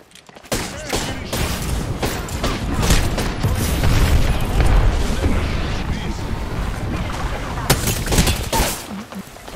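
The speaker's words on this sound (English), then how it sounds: "Calling the airstrike." Airstrike in the video game Apex Legends, a sustained barrage of booming explosions and rattling gunfire that rumbles loudly for several seconds, mixed with voices talking over the chaos.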